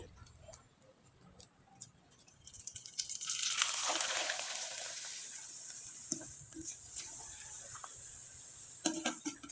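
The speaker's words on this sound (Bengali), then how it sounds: "একইভাবে আমি আরেকটা পিঠা ভেজে আপনাদের দেখিয়ে দিচ্ছি" Tomato pitha frying in hot oil, a steady bubbling sizzle that swells loud midway and stays constant, with small ticks and pops scattered over it and no talking.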